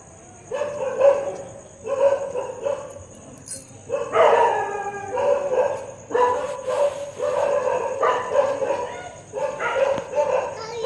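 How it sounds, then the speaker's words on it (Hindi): Several dogs bark, yip and howl at night outdoors during Diwali, repeated bursts of barking at moderate distance with a faint steady high whine in the background and occasional voices nearby. "कुत्ते बहुत भौंक रहे हैं, रात हो गई ना।"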